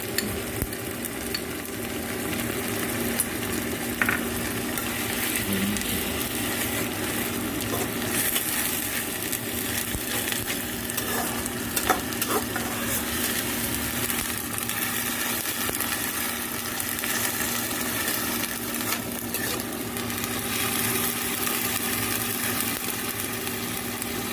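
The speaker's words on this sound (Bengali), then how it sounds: "হ্যাঁ, পেঁয়াজ আর লঙ্কা বাটাটা দিয়ে দিলাম।" Onion and chili paste frying in a pan for a keema ghoogni, a continuous close sizzle with scattered stirring scrapes throughout, no voices.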